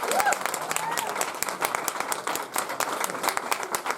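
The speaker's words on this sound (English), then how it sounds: "let's give an applause for..." Applause from an audience at a luncheon at Mattie's Kitchen, a dense patter of clapping filling the room with scattered voices talking underneath throughout.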